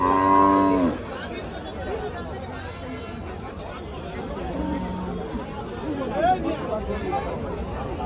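A loud cow moo opens at a cattle market, then a busy crowd of chattering voices fills the space, with another animal call rising briefly near the end.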